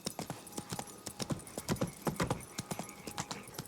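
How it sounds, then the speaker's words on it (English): A horse's hooves clip-clop at a walk in The Witcher 3, a soft irregular run of close hoof strikes with a faint whinny-like sound mixed in. "Whoa there, Roach."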